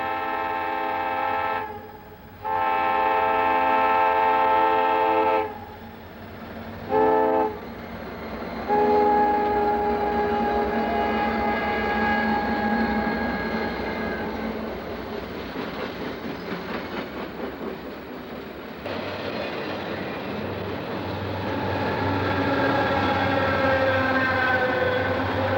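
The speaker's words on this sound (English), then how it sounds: "we find a blue B&O GP40 leading the SLTT trailer train through" A blue B&O GP40 leads the SLTT trailer train up a steep grade in 1983 with a steady locomotive drone, broken by a series of loud horn blasts, some short and some long.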